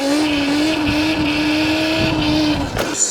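Electric RC truck with upgraded reservoir shocks driving past, a steady high motor whine that holds near and loud, then shifts pitch as it changes speed near the end.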